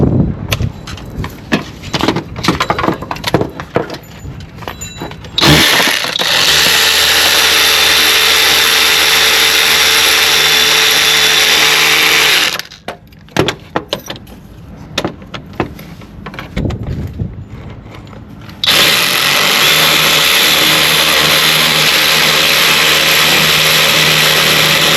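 A power tool cranks nuts onto studs while an alternator is fitted to a Dodge Grand Caravan, in two long, loud, steady whirring bursts separated by brief clanks and pauses.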